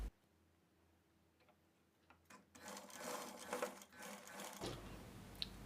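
A sewing machine stitches piping, its quiet ticking start giving way to a steady, close mechanical whir of continuous stitching.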